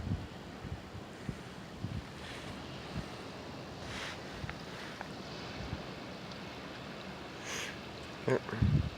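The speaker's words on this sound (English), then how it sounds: "the water's just coming in. It's rolling in." Ocean waves roll in on a beach near rocks, with surf washing steadily under gusty wind noise on the microphone. Louder knocks and rustles sound close by near the end.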